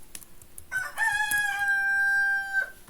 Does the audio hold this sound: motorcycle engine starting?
no